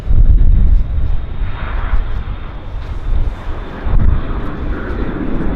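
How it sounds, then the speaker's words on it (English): A Horizon Air Q400 turboprop in Alaska colors taxis at Vancouver Airport, its engine a steady, loud broadband roar with a low rumble that swells and eases through the stretch, heard alone without talk. "We have Horizon Air taxiing into position, the Q400 in full Alaska colors."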